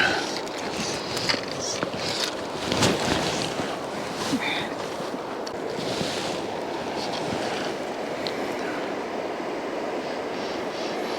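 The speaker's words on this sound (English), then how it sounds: "Another boat." A motorboat passes on the Cowlitz River, a distant engine drone blended into steady water and wind noise along the riverbank, with brief faint sounds near the start.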